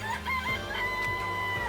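Chickens clucking in the Danganronpa: Trigger Happy Havoc video game: repeated short cackles over a steady game soundtrack, close and moderately loud, with no talking.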